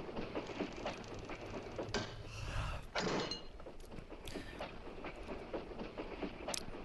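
A train runs along the tracks in the film Horror Express, with rhythmic clicking, metallic creaks and rattling carriage mechanisms at moderate volume, and there is no talking.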